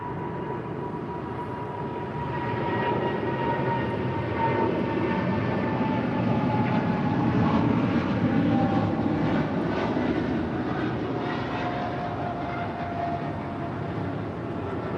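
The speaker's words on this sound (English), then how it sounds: "China Airlines cargo, the 777 now rolling it down 25 right." A China Airlines cargo Boeing 777 takes off down runway 25 right at LAX, its loud jet roar swelling steadily and holding for the full stretch, with high turbine whine riding over a broad rumble and no voices.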